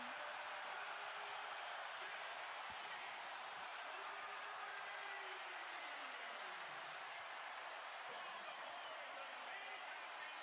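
Arena crowd in an NBA game between the Golden State Warriors and Philadelphia 76ers reacting to a banked half-court shot, a broad, steady roar of cheering and applause that stays even throughout, heard from the broadcast position with a commentator's voice under it.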